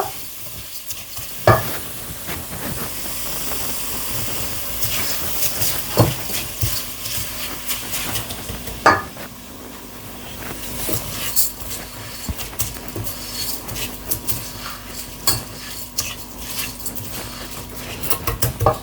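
A spoon stirs rice in a cooking pot, scraping and clinking against the metal in irregular strokes over a soft sizzle, close and fairly loud, with no voices.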